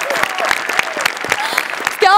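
Audience applause at the Maharashtrachi Hasyajatra comedy show, a brisk patter of clapping heard up close for about two seconds while a voice speaks over it.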